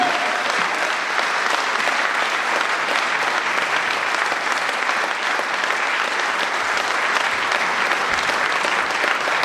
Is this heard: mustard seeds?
no